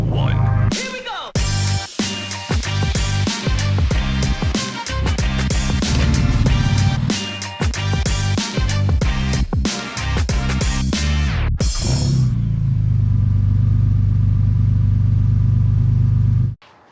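A 6.4-liter 392 Hemi V8 with open headers, swapped into a 2009 Jeep JK, fires up loud and close, with sharp revving blasts followed by a steady, heavy rumbling idle.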